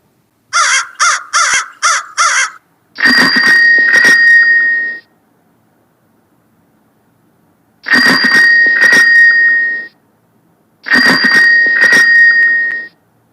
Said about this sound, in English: So, sparrow sounds and crow sound. Again you can listen.